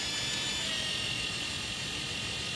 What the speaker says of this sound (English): the experienced operator simply angles the turning auger upward just after starting